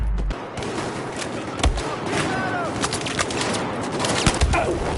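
Gunfire in the video game Battlefield 4: rapid, irregular bursts of shots crack repeatedly over a dense battlefield din, with a few louder reports standing out near the start and end.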